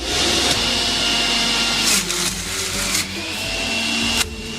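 Sage Nutri Juicer Pro motor whirring steadily while juicing an apple, a loud high-pitched hum with brief grinding surges and clunks as fruit is pushed through.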